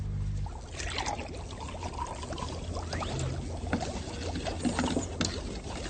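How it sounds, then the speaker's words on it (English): Vinegar is poured into a small container for a baking soda chemical reaction demonstration, a soft steady trickle and splash lasting several seconds, close and alone. "Pour some vinegar into the smaller container."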